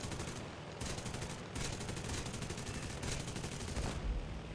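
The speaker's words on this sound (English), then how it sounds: "That's some bad shooting on my part." Rapid aircraft machine-gun fire in War Thunder from an F3F-2 fighter in a dogfight with a 109 comes in several dense, loud bursts separated by brief pauses, over steady engine drone.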